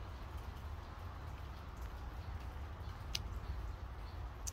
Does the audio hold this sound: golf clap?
no